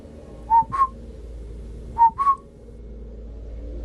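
Two pairs of short, rising whistles ring out over a dim background hum, each pair a quick double note separated by a pause, eerie and clear in an empty night setting near a prickly pear thicket.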